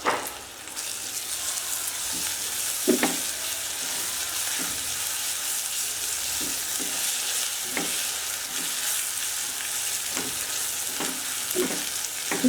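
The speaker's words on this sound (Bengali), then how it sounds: "পেঁয়াজটা খুব ভালোভাবে আমি ভাজবো।" Onions fry with ginger garlic paste in a steady, close sizzle, broken by occasional scrapes and taps of a spatula stirring the pan, with no voices.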